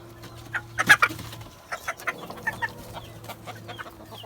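Chickens cluck near a coop in a series of short, close calls, with a louder cluster early on and scattered softer clucks after it, against a low background hum.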